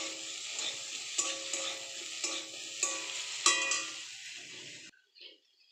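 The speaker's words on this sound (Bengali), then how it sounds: "ভাজা ভাজা করে নেব" Food is stirred and fried crisp in a pan: a steady bright sizzle broken by sharp scraping stirs about once a second, then the frying cuts off abruptly near the end, with no talking.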